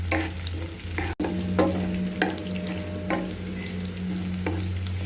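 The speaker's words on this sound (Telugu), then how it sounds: "జీలకర్ర వేస్తున్నాను. ఇది కొంచెం చిట్టుపెట్టమన్నాక ఎండుమిర్చి, కరివేపాకు వేస్తాను." Cumin seeds, then dried red chilies and curry leaves, frying in hot oil with garlic for an okra and spring onion stir-fry, giving a steady close sizzle with a low hum and several sharp spatters and pops.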